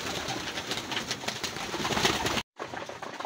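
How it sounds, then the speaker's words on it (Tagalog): Racing pigeons coo and flutter while feeding during hard training for a race in Pakil and Lumban, Laguna; a dense, steady murmur of many birds nearby, briefly cut to silence before resuming. "Yung mga kalapatid, lalakas silang kumain, oh."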